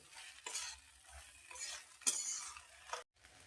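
A spoon scrapes and stirs a masala mixture in a pan for Marathwada-style sushila, with a soft sizzle of frying underneath and a few distinct scraping strokes, close and fairly quiet.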